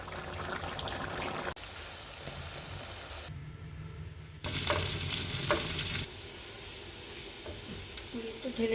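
Beef tripe frying in a pan with turmeric, chili, salt, ginger-garlic paste, coriander and cumin; close sizzling and stirring that cuts off briefly, then returns louder with scraping.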